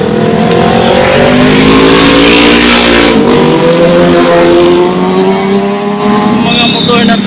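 Motorcycles run along a mountain road and rise in pitch as they pass close by. The engines are loud and continuous, and a voice speaks over them.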